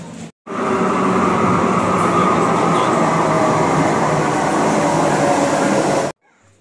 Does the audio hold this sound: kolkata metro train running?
yes